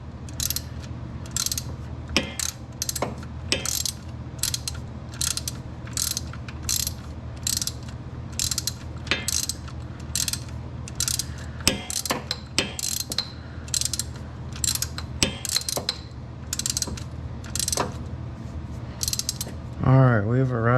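A ratchet wrench tightening bolts during an alternator replacement on a 1997 Saab 900 SE Turbo, with rapid, close clicking in steady bursts over a low background hum.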